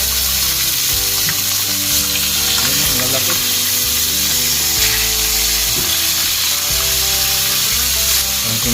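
Three large fish sizzle and crackle in a big kawali, a steady loud frying hiss with dense spattering that continues throughout, with a low hum and faint background voices underneath.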